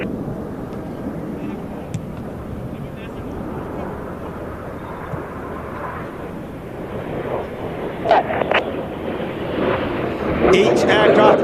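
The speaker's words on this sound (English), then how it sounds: "Each aircraft only passing within 30 meters of each other, turning the boomerang into Cyclone" Aerobatic display jets from a team flying close formation pass overhead at a NATO air show, a steady broad engine roar lasting throughout and swelling toward the end, with a commentator talking over it.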